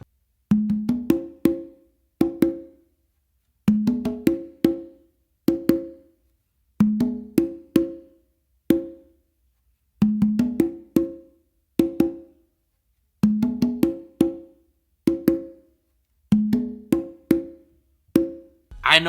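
Congas playing three funk melody tumbao variations strung together, a steady stream of close, crisp slaps and resonant open tones in repeating phrases with brief gaps, no voices.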